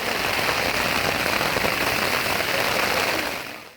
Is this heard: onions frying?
no